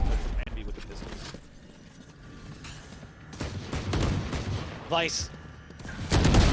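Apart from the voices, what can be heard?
pistol gunfire in the video game Valorant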